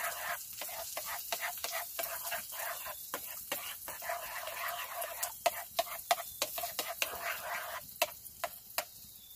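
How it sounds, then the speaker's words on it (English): Eggs being scrambled and stirred in a pan over a wood fire in an outdoor rock fireplace: a steady sizzle with quick, irregular scraping stir clicks, close and fairly loud, with no talking. "I think I'm just going to scramble up these eggs. Just mix them all up together."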